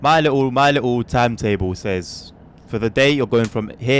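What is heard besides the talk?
No everyday noises stand out.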